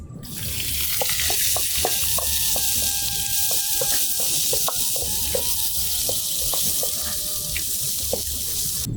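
Onions frying in a pan for a dry prawn curry, a dense, loud, even sizzle that fills the scene throughout, broken by small clinks and pops, with no one talking.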